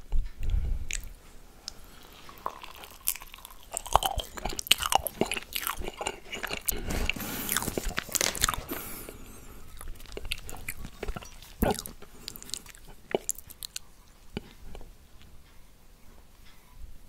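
Marshmallows dipped in melted dark chocolate being eaten up close, with soft squishy chewing, sticky smacks and small crunchy clicks repeating irregularly at a low, intimate volume.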